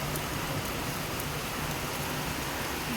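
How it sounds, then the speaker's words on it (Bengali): Steady rain falls in a dense, even hiss across the whole stretch, close and continuous with no voices or other sounds breaking through. "এখন তোমার মেঘ করে এখন বৃষ্টিটা হচ্ছে"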